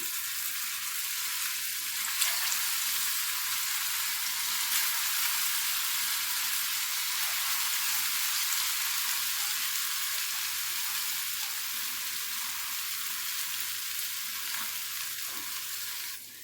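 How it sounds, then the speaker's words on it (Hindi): Chicken shami kababs frying in hot oil in a pan, a loud continuous hiss of bright crackling sizzle held steady throughout, close up with no talking. "पैन में हमने ऑयल डाल के गर्म कर लिया है। अब हम इसमें कबाब डालेंगे।"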